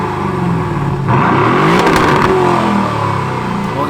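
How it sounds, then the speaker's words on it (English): An Aston Martin DB11 Volante's V8 engine revs loudly up close, rising into a strong roar for about a second before settling back to a steady growl. "the V8 engine sounded like absolute heaven in a world of small engines with bigger turbos"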